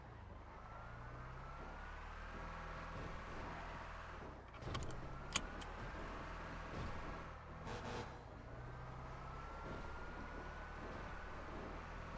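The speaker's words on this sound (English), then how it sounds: "I like the sound of this truck and this engine." A truck engine runs in a NoPixel GTA roleplay game, idling with a low, steady rumble at close range for the whole stretch, with a few brief clicks and shifts near the middle.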